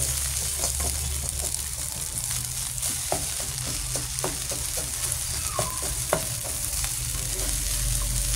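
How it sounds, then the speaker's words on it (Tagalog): Fried rice with egg stir-fried in a pan, a steady close sizzle of hot oil with repeated scraping and clacking strokes of a spatula running throughout. "Tsaga-tsaga lang tayo sa paghahalo ng ganito."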